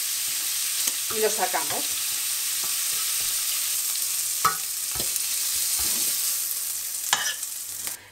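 Stuffed squid sizzles briefly in a hot frying pan, a steady bright crackle throughout, with scattered clinks and scrapes of a utensil turning the pieces; a voice speaks once near the end.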